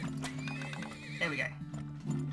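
Horses in the video game Turmoil let out a clear high whinny that rises and falls, over a steady electronic game music drone, with soft hoof clip-clop underneath and a voice speaking briefly.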